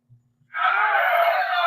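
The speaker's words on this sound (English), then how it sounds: "he's just screaming at people, throwing a hissy fit" A man screams at people in a subway, throwing a fit; after a brief low thump, a loud, sustained, strained yell runs unbroken for over a second, close and harsh, with no other voices.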